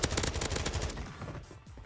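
Rapid automatic gunfire in a shooter video game, a dense burst of close, loud shots lasting about a second before trailing off into quieter game noise.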